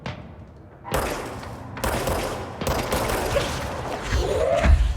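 Gunfire in the video game Control: after a quiet start, a burst of rapid shots and thuds crashes in, fading into a dense rattling fusillade with heavy booms near the end.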